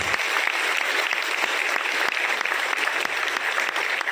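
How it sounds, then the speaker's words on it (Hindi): Loud, dense applause from an audience at an award ceremony, many hands clapping continuously and evenly from start to finish with no speech on top. "एक बार जोरदार तालियां आप अपने लिए बजाओ।"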